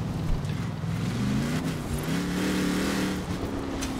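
A whistling car in the Forza Horizon 4 racing game holds a steady engine drone with a thin tonal whine that climbs and shifts in pitch, continuous and fairly loud throughout, with no talking.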